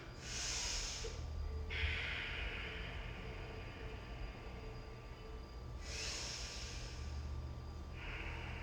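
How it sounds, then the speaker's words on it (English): Deep, slow breaths during a yoga flow. Two long, airy exhale-like rushes arrive several seconds apart over a soft, steady room background, close and fairly quiet. "So make the breaths really, really deep."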